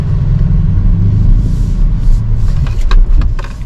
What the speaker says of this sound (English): we're going to give it a nice little launch.